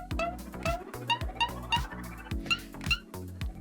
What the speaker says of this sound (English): So I've got very specific sounds for pointing that sound like this.